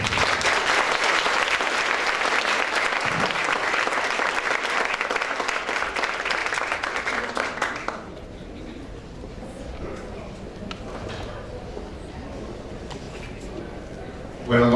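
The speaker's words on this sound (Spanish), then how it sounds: "aplauso." Loud audience applause at a book presentation holds strong for about eight seconds, then drops off abruptly, leaving a quieter room murmur before a sharp sound at the very end.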